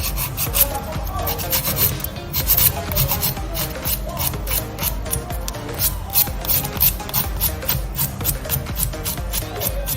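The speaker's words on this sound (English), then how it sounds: "It's really hard, so as you're filing, it's not coming off and it's dry." Steady, rapid back-and-forth rasping of a file over hard acrylic dip-powder nails, close and continuous throughout with an even rhythm and no talking.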